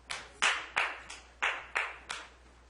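Scattered applause from an audience at a county board of supervisors meeting: about seven distinct bursts of hand clapping in an uneven rhythm, each sharp and then fading, moderately close in a quiet hall.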